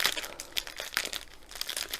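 Scissors snipping into a plastic bag of diamond-painting drills, giving a run of close, crisp crinkling and rustling bursts that repeat unevenly throughout, with no talking.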